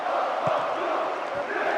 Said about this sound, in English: These two teams received a big welcome from this partisan crowd.